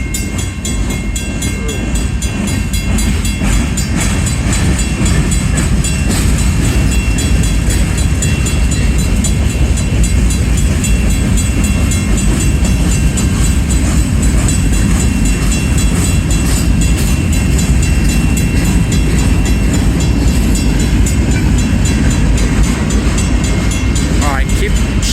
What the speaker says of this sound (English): Chugging along, train.